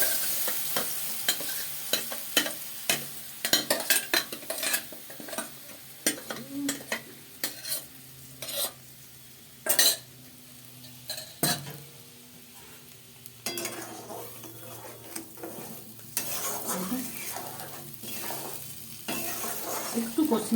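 A ground spice paste fries in oil as it is stirred, a continuous close sizzle with irregular scraping strokes and occasional utensil clinks against the pan.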